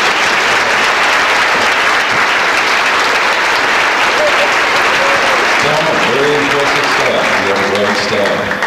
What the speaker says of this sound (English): I want you to give them a round of applause